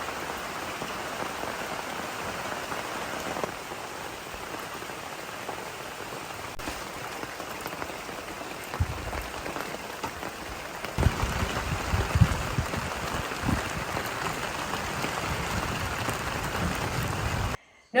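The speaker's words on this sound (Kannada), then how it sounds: "ಜೋರು ಮಳೆ ಬರ್ತಾ ಉಂಟು ಒಂಬತ್ತುವರೆ ಆಯ್ತು ನೋಡಿ ರಾತ್ರಿ" Steady heavy rain pours down continuously at night, a dense hiss with patter that grows a little louder and busier toward the end.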